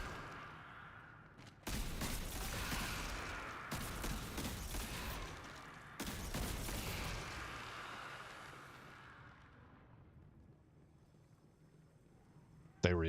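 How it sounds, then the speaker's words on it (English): Bursts of rapid gunfire in the video game Destiny 2, with broad booming blasts in a few clusters, fading into a long quiet tail, fairly faint overall. "They reacted to the gunfire."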